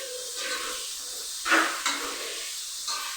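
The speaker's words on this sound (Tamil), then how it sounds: "வெங்காயம் நல்லா வதங்கணும்." Onions sautéing in a pan for pulao, with a soft continuous sizzle and occasional louder stirring scrapes, close and alone.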